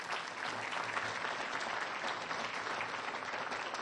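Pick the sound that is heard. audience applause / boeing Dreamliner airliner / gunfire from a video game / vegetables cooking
audience applause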